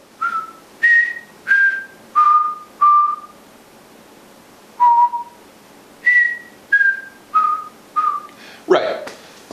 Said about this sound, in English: That's the whistle part, though.